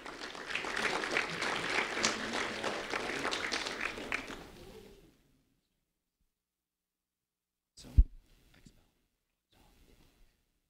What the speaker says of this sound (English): a round of applause for Abxel Vargas, please